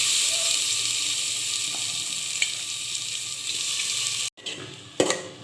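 Rice for a Bengali basanti pulao sizzles in a hot pan with ground spices, a steady close hiss broken near the end by a brief pause and a few scraping stirs.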